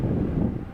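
Wind buffets the microphone in a brief, loud low rumble, blustery and continuous, on a clear fall day during corn harvest.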